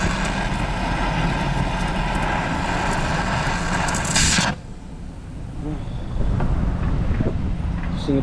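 A big gust of wind roars across the microphone for several seconds as a steady broadband rush, dropping away briefly before returning, near and loud, with no voices.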